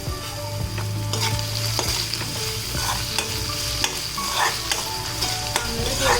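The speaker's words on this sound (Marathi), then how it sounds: "चांगलं थोडंसं परतून घ्या" Onions for methi bhaji, salted, sauté in a pan under constant close sizzling, with a spatula clicking and scraping against the metal in an irregular, busy rhythm throughout.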